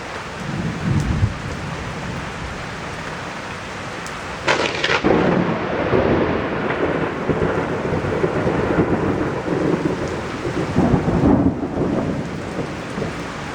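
Thunder from lightning striking close to a race boat crashes in deep, rolling rumbles, with a sharp loud crack partway through, over steady heavy rain with no voices.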